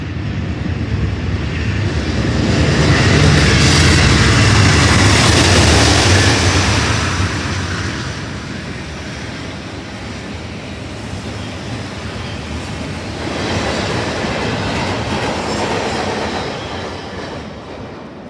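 A BNSF intermodal freight train led by an H2-9 with an H1-9 second thunders past nearby, a loud, continuous roar of engines and rolling wagons that swells, eases, then surges again.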